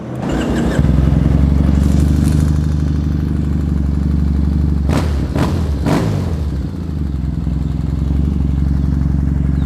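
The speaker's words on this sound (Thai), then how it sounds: "ฟังเสียงท่อกันหน่อยดีกว่า" A custom Triumph Thruxton 900 motorcycle with an aftermarket exhaust idles with a loud, deep, throbbing rumble, then three quick sharp throttle blips rev up and drop back to a steady lumpy idle, close and alone.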